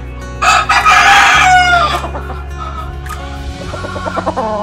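A Blueface Hatch gamecock rooster gives one loud, close crow. Its drawn-out call rises and then trails off, followed by a few softer clucks against a low background hum.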